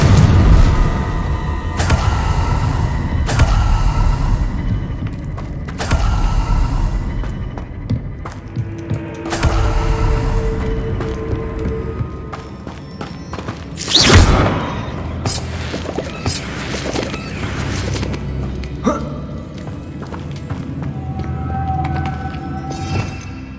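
Spell blasts in Hogwarts Legacy, Depulso, Incendio and Confringo, go off as a string of loud booming explosions with whooshes and crackling debris, irregularly spaced across a continuous rumbling game soundscape.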